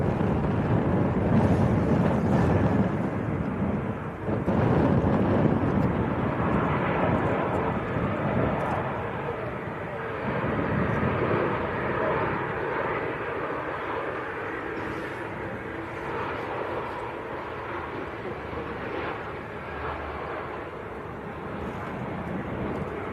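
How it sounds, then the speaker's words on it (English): A Cessna Citation 550 Bravo business jet taxis at Manchester Airport, a broad, rumbling engine roar that holds steady and then eases slightly, heard from a distance with people talking over it. "the little Citation 550 Bravo that landed earlier on. That's just starting to taxi out."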